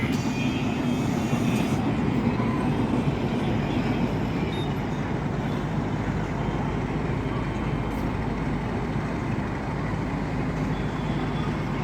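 A Narayanganj commuter train bound for Kamalapur rolls past nearby, heard from a rooftop garden as a loud, steady rumble and clatter of wheels that holds throughout.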